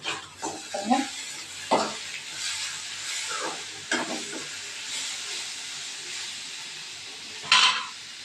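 Grated carrot sprinkled into hot oil for carrot puttu fries with a continuous hissing sizzle, punctuated by a few sharper stirring and scraping knocks, close and alone without speech.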